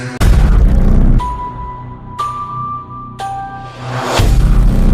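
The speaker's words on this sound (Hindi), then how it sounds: "जोरदार धमाके के बाद शेखर साहू की दादी की ऑन द स्पॉट डेथ हो जाती" Heavy booming blasts hit in a rapid sequence, each a loud low rumble with sharp onsets, separated by shorter tonal stings.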